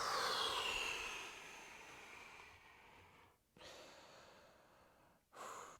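Slow, steady breaths drawn in and let out during a yoga flow class, a loud airy inhale fading over several seconds and then two more short breaths after brief pauses, with no one talking.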